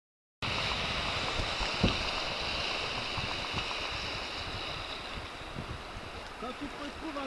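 Broad wash of surf and wind runs steadily the whole way at a French beach, with faint splashes and light knocks now and then, moderately quiet and continuous after a brief silent start.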